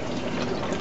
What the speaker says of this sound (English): What we're going to do now is add our salt water.